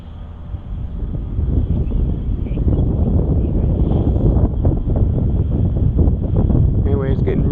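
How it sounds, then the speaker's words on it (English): Strong wind buffets a microphone with a low, rumbling roar that builds and stays steady throughout at an RC plane flying field, with a faint voice underneath. "it's getting really pretty windy out here"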